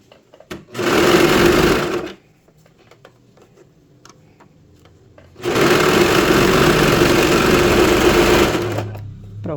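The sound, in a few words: sewing machine stitching fabric for a pet dress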